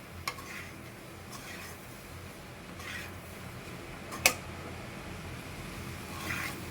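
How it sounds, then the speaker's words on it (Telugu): Egg and onion fry cooks in a pan while being stirred, a faint, low sizzle with occasional soft scrapes and one sharp clink of the utensil against the pan. "ఇలాగే కలుపుకుంటూ కుక్ చేసుకోవాలి ఫ్రెండ్స్"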